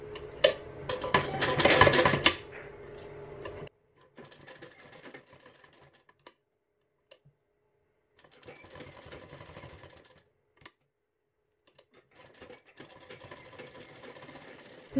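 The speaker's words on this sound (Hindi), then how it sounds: "दोनों साइड से इस पर सिलाई लगा देंगे।" Sewing machine stitching a designer net blouse: a loud, fast mechanical whir at the start, then several quieter bursts of stitching separated by near-silent pauses.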